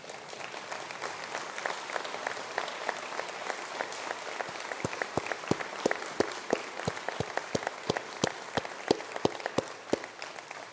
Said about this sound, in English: we could just please stand up and give a round of applause